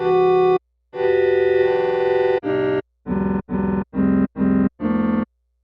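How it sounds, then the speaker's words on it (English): Granular synthesis tones from Arturia Pigments 2 in separate bursts, two long sustained chunks followed by a run of short evenly spaced pulses, with a processed, slightly distorted texture. "And that's basically a simple kind of crossfading of those grains."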